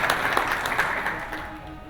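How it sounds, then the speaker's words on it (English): An audience claps at a medical talk on Alzheimer's, a brief, moderate burst of applause that thins out toward the end. "Give him a clap, please."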